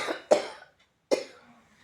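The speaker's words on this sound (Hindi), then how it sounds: "एक खांसी" Two sharp coughs, close and fairly loud, separated by a short pause, each trailing off quickly.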